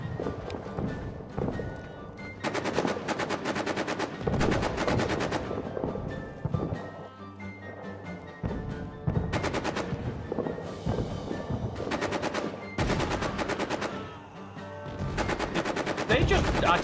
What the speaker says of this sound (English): They're back on a machine gun. They're now suppressing me.